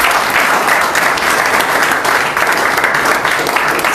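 A church congregation applauds together, a dense, steady wash of clapping that fills the room from start to finish without pause.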